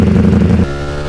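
Ducati Panigale V4 liter-bike engine running nearby, a loud buzzing rumble that drops to a steadier lower idle-like drone partway through, with no talking.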